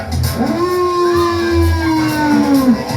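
A woman imitates a cow's moo at a Ngäbe Buglé church festival, giving one long drawn-out call that starts at a low pitch, holds, and then falls away. The call is loud and close, with no other voices underneath.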